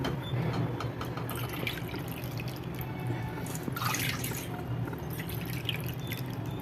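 Water goes into a pot while Thiruvathirai kali is being made, a soft, steady trickle and splash with scattered drips heard up close and fairly quiet, with no talking.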